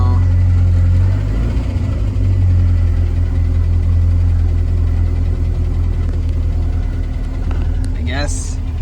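A Roush Thunderbird's engine running at a high idle: a loud, steady, close low rumble that drones throughout, with a brief squeal near the end.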